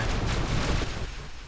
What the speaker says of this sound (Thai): โอ้โหระเบิด